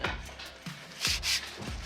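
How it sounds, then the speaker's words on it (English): P80 sandpaper rubs across a wooden sofa frame in a few short, scratchy strokes, close and fairly loud, with uneven rhythm. "now we are going to sand it using the P80 to remove any remnant paints"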